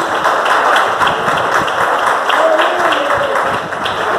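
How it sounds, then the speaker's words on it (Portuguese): A church congregation claps steadily and enthusiastically for several seconds, a dense, continuous wash of applause filling the room. "Pode aplaudir a Jesus Cristo."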